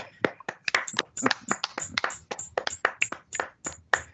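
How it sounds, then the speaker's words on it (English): Sparse, separate hand claps from a small group at a conference session, irregular and moderately close, each clap sharp and distinct against a quiet background with no talking. "give a round of applause to ourselves, assuming that people are also doing this for us"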